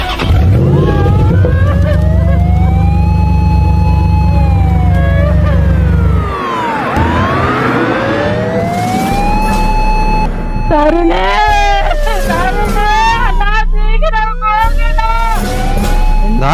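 Wailing emergency siren sweeping up and down loudly and close as an ambulance arrives near a hospital, with a deep vehicle rumble underneath and overlapping siren tones mid-clip.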